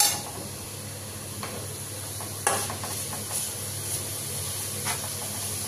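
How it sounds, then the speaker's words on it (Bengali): Carrot, capsicum and onion frying in a pan give a steady close sizzle and hiss, with a few louder stirring scrapes and clatters breaking through at intervals. "ভালো করে একটু ভেজে নিচ্ছি।"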